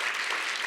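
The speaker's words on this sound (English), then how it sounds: "give him a round of applause of appreciation for his leadership and his service" Audience applause at a community townhall: a brief, dense wash of many hands clapping at steady volume.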